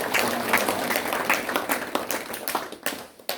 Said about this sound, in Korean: 이 모든 분들을 위해서 또 이렇게 박수 한번 해주시기